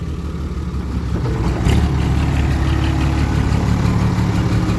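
A tractor engine rumbles and idles nearby, a continuous low drone that grows slightly louder partway through and keeps running to the end.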